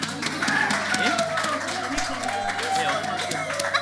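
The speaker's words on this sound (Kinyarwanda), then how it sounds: "Mumuha amashyi kubera ko abyemeye twagiye" Concert audience at a Catholic All Stars show in Nyamitari, applauding a singer as he is called to the stage. The clapping and crowd noise are continuous and fairly loud, with voices mixed in.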